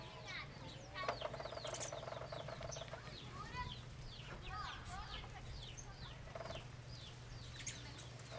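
Several farm chickens cluck and chirp in repeated short bursts around a small chick, mixed with a steady low hum in the background, while people talk quietly nearby.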